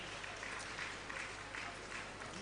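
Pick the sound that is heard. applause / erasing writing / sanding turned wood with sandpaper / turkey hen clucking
applause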